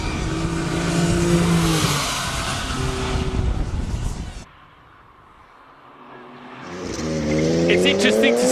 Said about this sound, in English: taking on the track with the Porsche Turbo